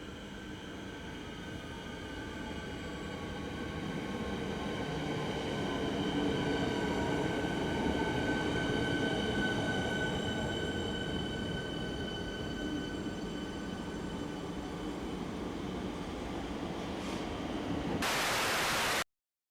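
A Siemens Nexus electric suburban train on the Williamstown branch runs steadily, heard from on board as a continuous rumbling hiss with faint whining tones, fairly quiet and unbroken until an abrupt burst at the end.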